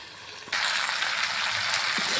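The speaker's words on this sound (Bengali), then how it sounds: "এখন ভেজে রাখা আলু পটল ঢেলে সুন্দর করে কষিয়ে নিয়ে ঝোল দিয়ে দিলাম" Broth is poured into a pan of simmering potato and pointed gourd curry, and a steady close bubbling and sizzling hiss swells up suddenly and carries on.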